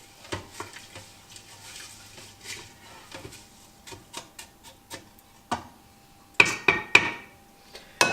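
A utensil stirs salted chicken in a pot for Key West chicken, giving scattered light taps and scrapes against the pot. A cluster of sharper, louder knocks comes near the end, with no talking.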